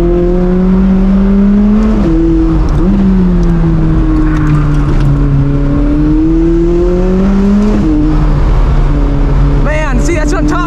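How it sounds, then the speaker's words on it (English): A McLaren 600LT engine winds out loudly under hard acceleration, holding a steady high drone through the gears with brief dips and crackles at each shift. "when you start winding out this car, you hear the bangs and the pops in each shift"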